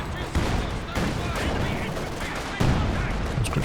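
An artillery barrage in the real-time strategy game Company of Heroes 2, a dense continuous roar of explosions and gunfire with sharper blasts breaking through, loud and sustained throughout a 2v2 match.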